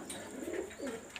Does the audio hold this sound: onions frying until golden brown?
no